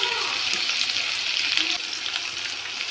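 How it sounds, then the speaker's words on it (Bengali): Chopped garlic frying in hot oil, a loud, continuous bright sizzle heard up close with faint stirring underneath and no speech. "আমি এখানে কুচে রেখেছিলাম রসুন দিয়ে দিচ্ছি। তেলটা গরম হয়ে গেছে।"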